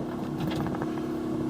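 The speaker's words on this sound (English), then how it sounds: "That sound is the vacuum pump kicking in once I've applied the brakes." A steady, close mechanical hum with a buzzing motor tone runs without a break: the brake vacuum pump of a 1938 Willys pickup converted to electric, kicking in after braking.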